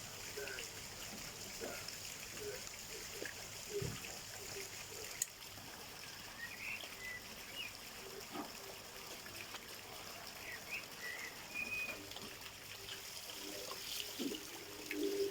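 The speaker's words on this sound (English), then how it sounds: "so it's distributing water around the pond at the same time" Outlets of an Oase pond skimmer pump push water around a garden pond, producing a faint, steady trickling and gurgling with scattered small splashes throughout.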